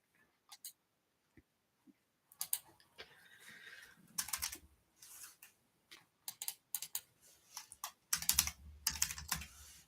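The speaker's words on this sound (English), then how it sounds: "Oh, my keyboard's not working at the moment." Someone types on a computer keyboard in quick, uneven bursts of close, crisp key clicks, with short pauses between the runs and no talking.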